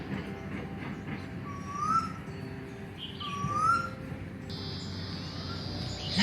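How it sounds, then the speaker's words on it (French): Birds calling near Narrabeen beach in Australia: a few repeated clear whistled notes over a steady low rumble of ambient background noise, with no one speaking. "Partout où on va, on entend le bruit des oiseaux."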